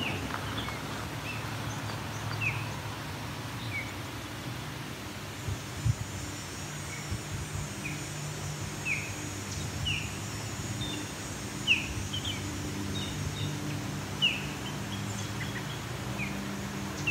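Distant ospreys calling at Rim Park about half a kilometre away, a run of faint, evenly spaced high chirps over steady low hum and outdoor noise.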